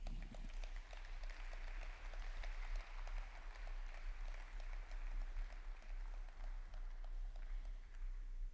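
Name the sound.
audience applause for panel walking on stage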